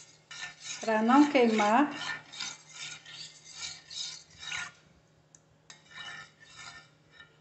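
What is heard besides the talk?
stirring gelatin dessert mixture in a pan on the stove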